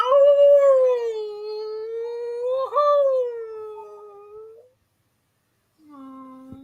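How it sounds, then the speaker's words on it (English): A monstrous Grimm howls in a long, wavering, mournful cry that rises and sags with a brief break midway, then stops, followed after a pause by a short lower wail; loud and close with no talk. "you start to hear from underneath you the howling of the Grimm"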